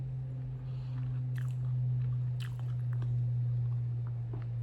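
Someone bites and chews a loaded Chipotle steak burrito close to the microphone, with soft wet crunches and squishes over a steady low hum and no talking.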